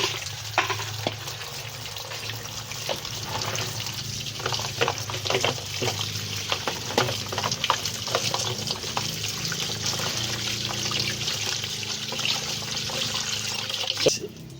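Bitter gourd, already rubbed with salt, is rinsed under a running kitchen tap. Water splashes and trickles steadily, with scattered clinks and handling noises close by and a voice talking over it.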